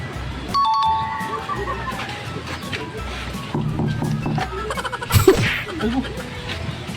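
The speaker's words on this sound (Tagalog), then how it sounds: "Eh, doorbell naman pala." A two-tone ding-dong doorbell chime rings out near the start, with talking and room noise around it and a brief louder clatter later.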